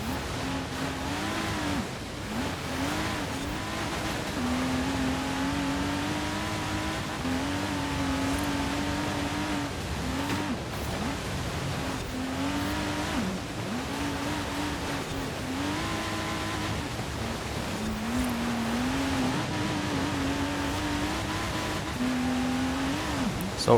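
A Lego Porsche's engine revs and accelerates continuously in Forza Horizon 4 while racing on snowy roads, rising and falling through gear shifts with steady tonal drone, close and loud, no talking.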